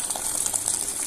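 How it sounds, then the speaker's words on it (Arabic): Boiling water poured from a pot onto rice and pasta for Egyptian koshari, a brief steady gushing splash with bubbling hiss, close and continuous, no talking. "دي ميه مغليه بنزل عليها على الرز والمكرونه"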